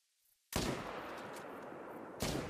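A single loud rifle shot at a deer in theHunter: Call of the Wild, abrupt and close after near silence, followed by a long rolling echo and then a second sharp report near the end.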